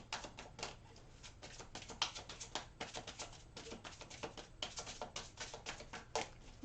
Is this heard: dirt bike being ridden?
no